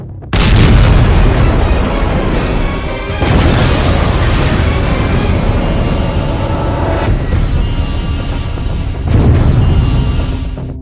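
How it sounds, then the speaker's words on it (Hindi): A nuclear bomb explosion effect: loud, dense rumbling blasts roll on continuously, with fresh booming surges near the start, around the three-second mark and again near the end. "परमाणु बम से हमला।"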